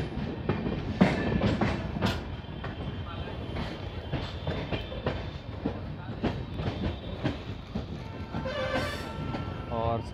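A train arrives on the Bareilly–Moradabad main line, with steady rumbling and rhythmic wheel clatter and a brief horn near the end as someone talks over it.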